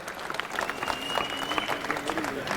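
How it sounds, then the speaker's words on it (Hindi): An audience at a public gathering in Kundapura with Goa's chief minister breaks into applause, a steady crackle of many hands clapping with a voice speaking over it. "उनके लिए भी जोर से तालियां यहाँ पे बजाना"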